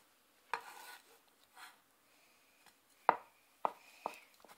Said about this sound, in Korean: 죽순을 채 썰어줍니다.